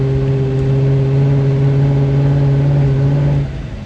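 Dodge Durango truck engine held with the pedal floored, a loud steady droning hum that does not climb in pitch, then cuts off near the end.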